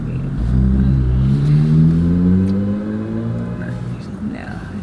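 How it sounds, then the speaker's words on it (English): Heavy road traffic rumbles close by, a car engine rising and falling in pitch as it accelerates past, loud at first and easing off toward the end. "it's so much traffic"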